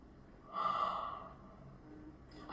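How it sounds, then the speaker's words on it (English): A person lets out a big, drawn-out yawn with a voiced, breathy rise that fades over about a second, quiet and close, followed by a short breath. "do another big yawn."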